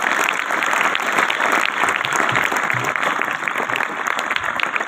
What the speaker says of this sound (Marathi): मुख्याध्यापक व शिक्षकांसाठी जोराच्या टाळ्या वाजवा.